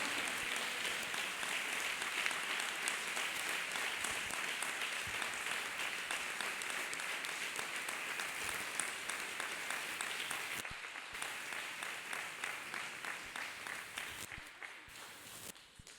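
Congregation at a church testimony service clapping hands together, a steady dense applause that continues loud and alone for about sixteen seconds, thinning slightly near the end.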